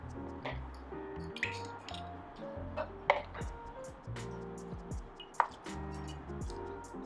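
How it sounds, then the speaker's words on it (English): Water is poured and splashed onto dry sphagnum moss in a plastic container, producing soft wet squishes, scattered ticks and drips, and a couple of sharper close knocks, with no talk. "I'm going to dampen the sphagnum moss with some water."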